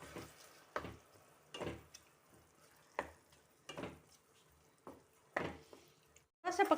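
Boiled, roughly chopped tomatoes cook and stir in a pan for onion-tomato chutney, soft intermittent scraping and sizzling strokes recurring about every second, fairly quiet, with a brief bubbly burst at the end.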